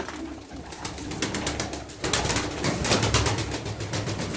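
Pigeons at a Turkish loft, among them show and tumbler birds, give low cooing calls in a busy, rustling setting, with repeated soft pulses and a louder burst of activity in the second half.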